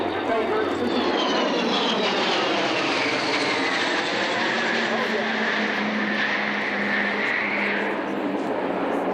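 An Avro Vulcan bomber jet passing over the Shoreham air show, a loud continuous roar with a sweeping pitch change as it flies by, filling the whole stretch.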